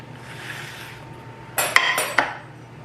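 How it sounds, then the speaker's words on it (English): A metal fork scrapes and clinks against a dish while sour cream is mixed into tater tot nachos, a few sharp close clicks and scrapes after a quiet start, with no speech. "And then I can mix it in with my fork."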